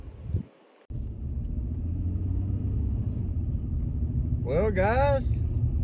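Car engine fired up after a radiator repair done with Krazy Glue, cranking briefly and then settling into a steady low idle rumble, close and continuous, with a voice speaking briefly over it near the end.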